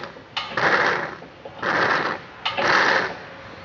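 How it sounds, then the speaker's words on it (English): Hydraulics on a tractor blade, drained of fluid, make three slurping suction bursts as the blade moves, each about half a second long with quieter gaps between them. "You can kind of hear that suction noise"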